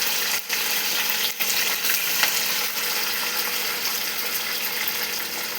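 Okra curry fries in a pan with a loud, continuous sizzle and crackle, broken by a few brief dips as the pan is stirred, with no talking.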